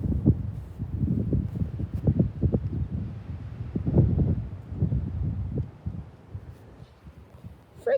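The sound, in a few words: wind blowing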